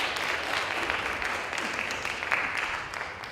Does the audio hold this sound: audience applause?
yes